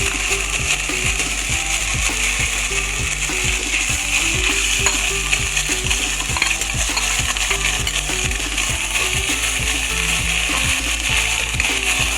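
Marinated chicken sizzles steadily in a hot pan, with a dense, even frying hiss and repeated clinks of stirring throughout and no talking.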